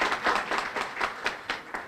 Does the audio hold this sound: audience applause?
yes